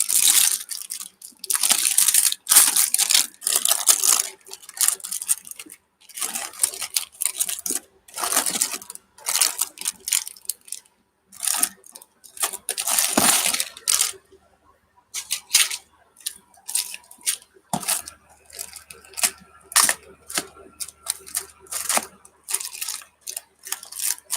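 Hands rummaging through a container of small metal bits such as rusty paper clips, giving bursts of clinking, rattling and scraping with short quiet gaps between them, close and fairly loud.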